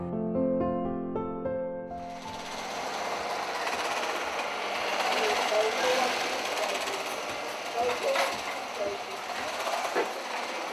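Sewing machines run in a sewing workshop with a dense mechanical whir and clatter, after a brief opening of tonal music, while voices murmur in the background.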